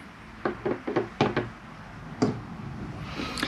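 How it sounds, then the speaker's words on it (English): Several sharp knocks and clunks of a door lock being worked by hand indoors, a quick cluster of clicks followed by a single later clack, close and moderately loud. "Hold on a minute, I gotta lock my door."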